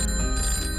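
A telephone rings in a short, continuous burst of bright metallic bell tones, close and fairly loud.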